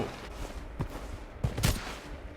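Gunfire in the shooter game Blood Strike: a few sharp shots crack out in a loose cluster, the last pair close together and loudest, over a steady low game rumble with no voices.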